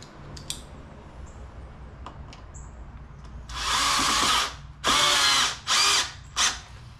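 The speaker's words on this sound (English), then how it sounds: "put this right in there and run a screw in" A power drill drives a screw into a wooden Adirondack chair, starting with faint handling clicks and then giving several loud whirring bursts, one long and three shorter, close by.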